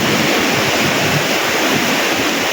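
Large ocean waves break on the shore in a continuous heavy roar with wind buffeting the microphone, loud and unbroken, no voices.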